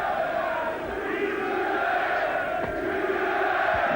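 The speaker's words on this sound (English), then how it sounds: "The crowd getting behind him." Boxing hall crowd during a Chris Eubank middleweight bout: a loud, steady roar of cheering and yelling fills the whole clip, dense and continuous with no clear breaks.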